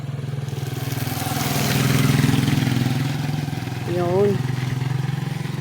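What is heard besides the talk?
motorcycle passing on a road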